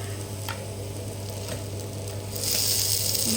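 Mutton keema dosa frying with a little oil or ghee drizzled around it, a steady close sizzle that swells louder and brighter near the end, with no voices.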